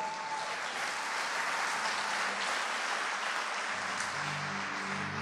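Sustained applause from a church congregation honoring the King of Kings, a dense, steady wash of many hands clapping throughout with no speech.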